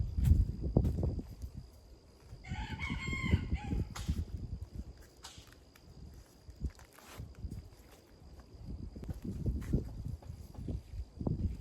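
Chickens cluck and crow nearby on a garden plot, a short crowing burst standing out among soft clucks, rustling and footstep-like scuffs.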